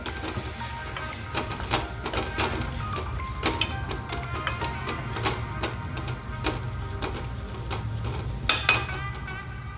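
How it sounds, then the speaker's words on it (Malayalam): Cooked beef with its water being mixed into an onion masala for a beef pepper roast, with repeated scraping and clinking of a spoon against the pan over a low sizzle, close and continuous. "നമ്മുടെ വേവിച്ച് വെച്ചിട്ടുള്ള ബീഫ് വെള്ളത്തോടുകൂടി ഇട്ട് കൊടുത്തിട്ടുണ്ട് അല്പം വെള്ളമേ ഉള്ളൂ അത് ചേർത്ത് നല്ലവണ്ണം ഒന്ന് മിക്സ് ചെയ്ത് കൊടുക്കാം"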